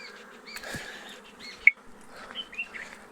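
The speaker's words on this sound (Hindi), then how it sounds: "ये मेलिफेरा वाला ये अभी भी इस पेड़ के ऊपर जा रहा है" A swarm of Apis mellifera honeybees flies up around a tall tree outdoors, giving a steady, dense buzzing hum with individual bees whining past nearby and a faint bird chirp.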